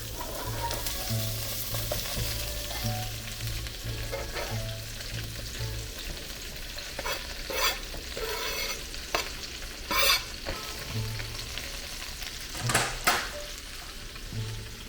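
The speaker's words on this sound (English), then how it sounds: "Cut up my cabbage. Now we're going to put it in the pot." Cut cabbage fries in a pot with pork and onions, a steady close sizzle broken by repeated stirring scrapes and clinks against the pot.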